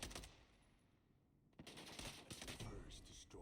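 Rapid gunfire bursts in the video game Lostlight, loud and close, crackling on and off at first, then a dense sustained volley through the second half with no talk over it.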